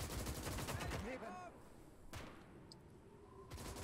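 Soldiers fire rifles and machine guns in the Gates of Hell: Ostfront war game, rapid rattling bursts up front with a whistling ricochet, then a single sharp shot and scattered fire fading into a lower din.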